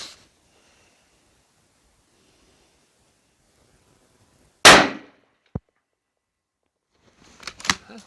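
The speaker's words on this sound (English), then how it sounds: "I'm going to be firing this last group, the bullseye, in the lower right." A rifle firing handloaded ammunition at a target range lets off a single sharp, loud report with a quick decaying tail, followed by a faint click and later some handling clatter.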